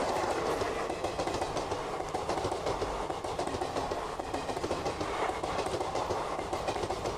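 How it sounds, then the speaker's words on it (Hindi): An Indian Railways WAG-9 locomotive hauls passenger coaches past at steady speed, a continuous loud rumble with fast clickety-clack from the wheels, heard alone with no speech. "वैग 9 और पीछे मुसाफर बरदार लगा के लाया है।"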